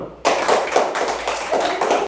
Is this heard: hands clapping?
yes